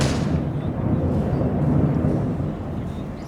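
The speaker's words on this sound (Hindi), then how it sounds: "ये जो धमाकों की आवाज सुनी गई है" Explosions in Caracas during a suspected missile air strike come as a deep, rolling rumble with a sharp onset, low and sustained before fading, with no talk.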